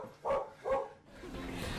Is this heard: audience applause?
no